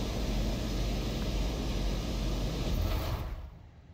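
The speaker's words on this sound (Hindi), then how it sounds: "और ये क्या है भाई ये" In Forza Horizon 4, a jet aircraft roars overhead as a dense, steady rumble that swells slightly, then drops off sharply at the close.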